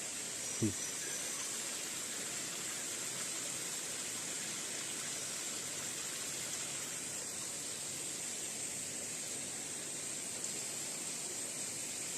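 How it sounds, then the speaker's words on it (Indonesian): A small stream of water trickles and splashes near a prayer room at the Coban Rondo waterfall area in Pujon, Malang, making a continuous, even rushing hiss with one brief knock near the start. "Ini ada gemericik air kecil ini"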